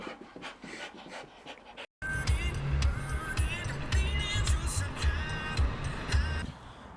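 A dog pants steadily and close by at a park, its breathing a rough, continuous rhythm after a brief cutoff, with faint outdoor background noise and a passing vehicle hum.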